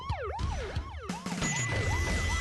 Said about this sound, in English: now the sirens are back to normal